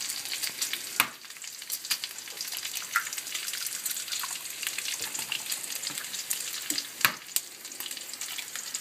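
Bacon frying in a pan while an omelet is prepared, a steady crackling sizzle with scattered pops and a couple of sharp clanks, fairly faint and close, no talking.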